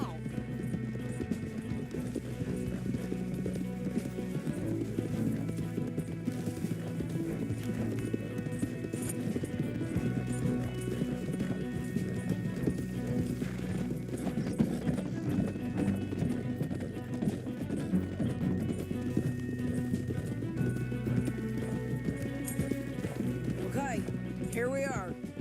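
Horses galloping in Red Dead Redemption 2, a continuous rapid clip-clop of hooves under game music and character dialogue, with an occasional whinny.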